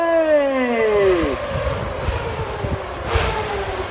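Renault Formula 1 car spinning through an acceleration turn on a Tokyo city street. A high-pitched engine whine drops sharply, then bursts of rough tire and engine noise follow, with a brief loud flare near the end.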